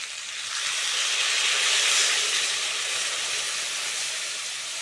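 Water hits a hot pan of fried pumpkin and potato curry seasoned with salt, turmeric and chili powder, giving a loud, steady steamy hiss and sizzle that swells and then eases slightly, close up with no talking.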